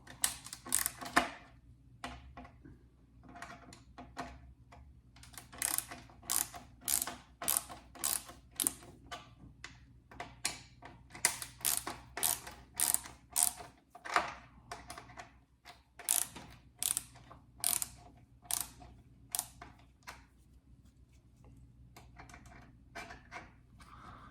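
Screws being backed out of the base of a 1/18 diecast Dodge Charger model car, a long run of crisp rapid ratcheting clicks in repeated bursts, close and fairly quiet, with short pauses between turns.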